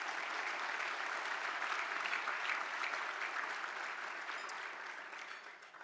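Dense audience applause at a community empowerment awards event, a continuous roar of many hands that holds steady and then tapers off near the end.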